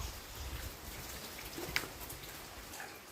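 Overnight rain falling steadily outdoors, a quiet, even hiss with scattered drops tapping on surfaces and one brief sharper drip, no voices.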